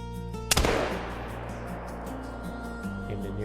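A single loud rifle shot at a shooting range in theHunter: Call of the Wild, a sharp close crack followed by a long decaying echo over a low ambient hum.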